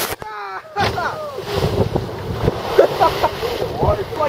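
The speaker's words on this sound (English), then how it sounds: "You can ride those waves." A small fishing boat on the ocean off Mississippi rides over waves, with splashing water, wind buffeting the microphone and engine noise, while people talk and shout excitedly throughout.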